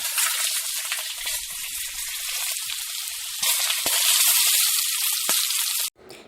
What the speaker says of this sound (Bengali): এখানে পনিরটা ভাজা হোক